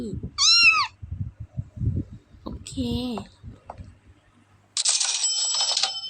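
A cat meows clearly twice at a cafe while a person talks in Thai, with soft clicking and a bright metallic chime near the end.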